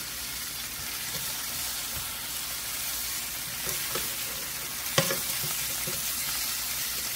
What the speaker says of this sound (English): we're going to flip our oxtails after browning them on the one side